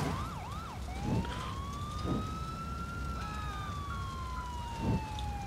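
Wailing emergency siren from an ambulance in the video game GTA IV, a steady rising and falling tone sounding close and loud, with soft thuds underneath.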